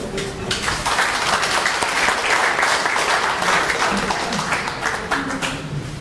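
A seminar audience at a Korean policy event on reunification gives warm applause, many hands clapping in a steady, full roar that holds for several seconds before easing slightly at the end.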